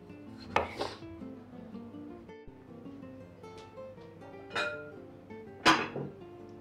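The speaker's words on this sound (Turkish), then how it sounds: "bunları da soteli doğrayalım" Several sharp knife chops through tomatoes on a cutting board, spaced irregularly, close by, with faint clinking and quiet background between strokes.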